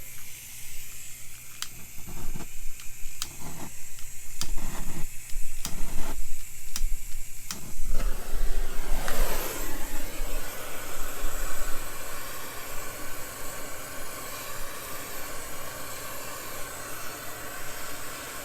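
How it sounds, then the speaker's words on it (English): A blowtorch heats a subframe bushing on a 5th-gen Camaro. Several sharp ticks come first, then a steady, loud, broad hiss takes over and holds to the end, with no talking. "So I'm going to apply some heat with a blowtorch."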